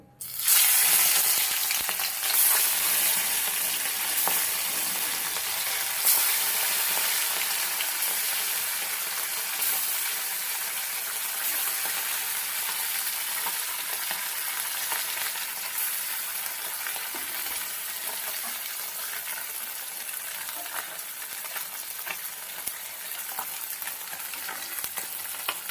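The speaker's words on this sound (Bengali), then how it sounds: "বাটা মাছগুলো ভেজে নেবো" Bata fish frying in a wok of hot oil, a dense continuous sizzle and crackle that stays loud and steady throughout, with no voices.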